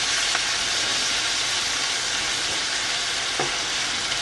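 Tomatoes cooking with vegetable stock in a pan, a steady close sizzle and hiss of frying with faint stirring scrapes throughout.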